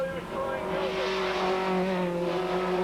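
TVR Tuscan race cars roar around a circuit during a 1995 race, a loud sustained engine drone with shifting pitch as cars pass close, continuous throughout with no pauses.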